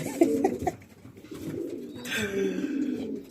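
Racing pigeons coo in a soft, low, rolling series of calls, several birds overlapping close by against faint background noise.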